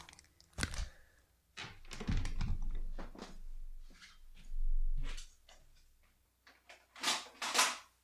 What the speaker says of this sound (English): Let me throw another tape in here